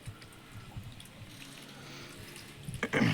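Mangoes are rinsed under running pipe water, a soft steady trickle with light splashing that grows louder and more splashy at the end.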